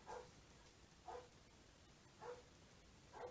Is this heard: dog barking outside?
yes